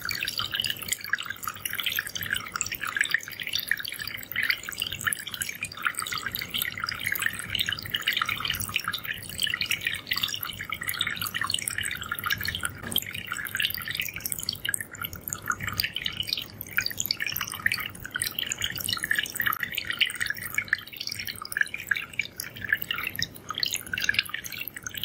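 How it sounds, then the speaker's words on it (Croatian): Water streaming from several small holes punched in a plastic bottle, a continuous fine dripping and trickling that stays steady and close, with no talking. "Mislim da ste uspjeli uočiti da voda ne istječe iz svih rupica u jednakom"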